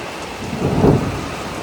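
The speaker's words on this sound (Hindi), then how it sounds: "बिजली भी कड़क रही है।" Thunder rumbles through steady rain during a sudden storm at a home, the low roll swelling near the middle and easing off over a constant rain hiss, with no voices.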